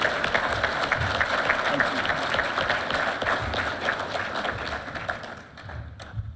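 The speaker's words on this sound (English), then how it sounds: "Please join me in giving them another well-deserved round of applause." Applause fills a hall at a law enforcement academy graduation ceremony, dense steady clapping from a crowd that fades near the end.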